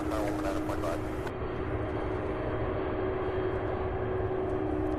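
A UPS cargo plane taxiing at Louisville airport, its engines giving a steady droning hum with a constant tonal whine, fairly close, under a faint voice.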